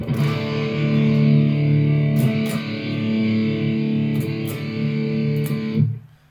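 Electric guitar run through a Torpedo amp simulator with enhancer and reverb, playing thick distorted sustained chords and notes for about six seconds, close and loud, then cutting off sharply.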